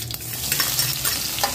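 Garlic, added after cumin, sizzles and crackles in hot oil with a steady hiss, while a utensil stirs and scrapes the pan now and then, while cooking potato-spinach sabzi.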